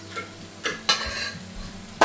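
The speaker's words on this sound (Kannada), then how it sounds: "ಇದಕ್ಕೆ ಸ್ವಲ್ಪ ಒಗ್ಗರಣೆ ಹಾಕ್ಕೊಳ್ಳೋಣ" Utensil knocks and scrapes sound against a pan as a tempering (oggarane) goes into cooked tomato and lentil dal, a few sharp clinks spread over a soft sizzle, the last one loudest.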